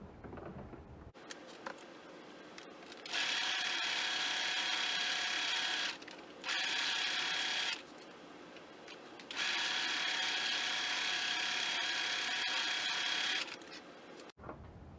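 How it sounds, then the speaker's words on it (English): A sewing machine stitching patchwork fabric for a project bag in three bursts of fast, whirring mechanical chatter separated by short pauses, with quiet fabric rustling at the start. "back to the sewing machine."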